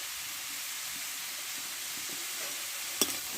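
Spices stirred and sizzling in hot oil in a pan for a mung dal and ash gourd curry, a steady frying hiss with faint scraping stirs and one sharp clink near the end.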